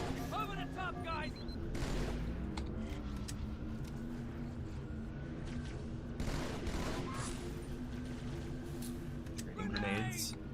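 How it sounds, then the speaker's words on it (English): Grenade blasts and gunfire crackle through a Halo 2 Rebalance mod battle at the Regret gondola, a fairly quiet, continuous mix of shots and thuds under frequent talking. "Trading grenades."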